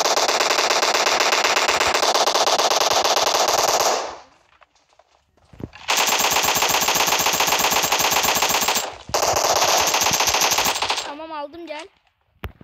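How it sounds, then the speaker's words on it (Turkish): Sustained automatic gunfire in the PUBG Mobile battle royale game, loud and close, coming in long continuous bursts with brief pauses between them and a short sliding game tone near the end. "Ben sıkıyorum adama."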